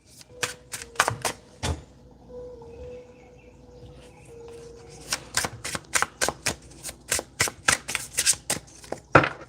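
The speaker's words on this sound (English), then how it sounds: "I don't know why I'm still shuffling." A deck of tarot cards is shuffled in quick rhythmic riffles, close up, with a brief quieter pause before the shuffling resumes faster.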